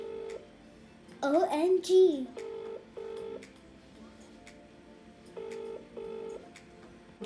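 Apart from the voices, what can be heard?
phone call ringing tone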